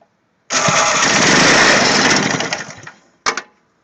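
A Briggs and Stratton 3 HP engine turned over by its electric starter, a loud close whirring crank of about two and a half seconds that fades, then a brief second burst.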